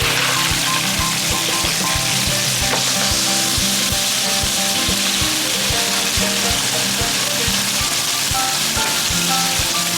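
Garlic frying in a pan for vongole bianco, a dense, loud, continuous sizzle with regular rhythmic tapping of stirring, close up and with no voices.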